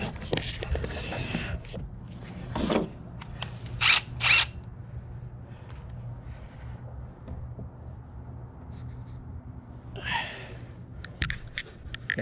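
A power driver shoots TimberLok screws into a wooden stair stringer during framing, with a few short whirring bursts, two close together, then another a while later, over quiet background noise.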